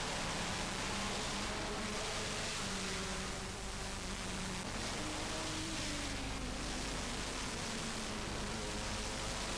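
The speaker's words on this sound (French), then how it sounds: "Et il pleut toujours sur Francorchamps." Steady rain falling over the Francorchamps circuit, a dense, even hiss with no breaks, faint and continuous throughout.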